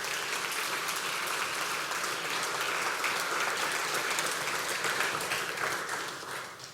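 A church congregation applauds during a sermon, a steady, even roar of many hands clapping that tapers off at the close.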